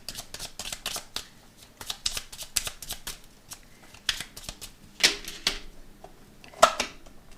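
Tarot cards being cut and handled, with quick papery riffles, slides and flicks repeating steadily at close range and no talking.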